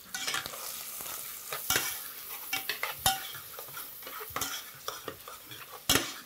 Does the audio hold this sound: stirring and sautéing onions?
yes